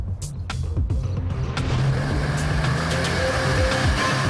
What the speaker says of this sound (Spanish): asume el control y pega un frenazo